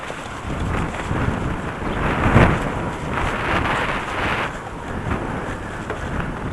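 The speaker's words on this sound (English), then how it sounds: "Sorry for the wind, it's still windy as hell." Strong gusty wind buffets the microphone outdoors in Kitchener after a storm, a steady loud roar with surges and one heavier gust, no voices.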